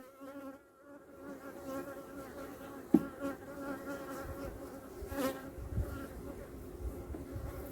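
Honey bees buzzing around an open hive in a beeyard, a steady droning hum with individual bees passing close by and a brief knock partway through.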